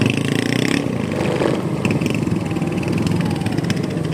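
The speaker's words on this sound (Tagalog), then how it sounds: "Kaya hindi mo pwedeng i-rat-rat dito yung motor." A motorcycle engine runs steadily while riding a rough road from Boso Boso, a continuous mid-pitched drone with rattling, close and fairly loud, with no talk.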